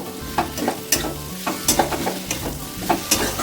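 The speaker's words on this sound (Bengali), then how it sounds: "এবার এতে দিয়ে দেব ভেজে রাখা এঁচড় এঁচড়গুলো একটু মশলার সাথে মিশিয়ে নেব" Fried jackfruit being stirred into spices and cumin in a pan, with a spoon scraping in regular strokes over a close, steady sizzle and no talk.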